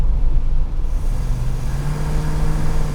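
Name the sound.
Jensen FF classic car engine running with hesitation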